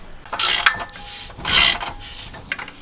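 A ratchet wrench works a 14mm bolt on a car downpipe bracket of an Infiniti Q50/Q60 Red Sport, giving close, short bursts of rapid clicking and metallic rubbing in two or three strokes.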